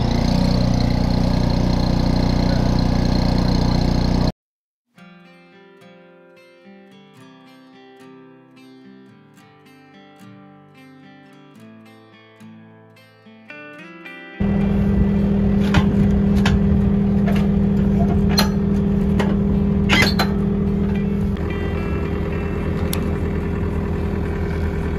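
A skid loader engine runs steadily on a farm fencing job, a close, loud mechanical drone that cuts out abruptly and later returns even louder with clanking over the hum.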